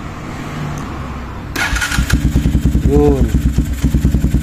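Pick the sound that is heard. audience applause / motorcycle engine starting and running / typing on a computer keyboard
motorcycle engine starting and running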